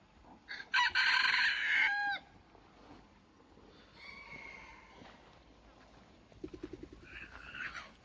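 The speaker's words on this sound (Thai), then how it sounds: "ฝนตกแดดออกแบบนี้ไก่แจ้จะคึกคักหน่อยครับ" A bantam rooster crows loudly up close, followed by quieter clucking and chattering calls from the bantam chickens nearby, active in rain-and-sun weather.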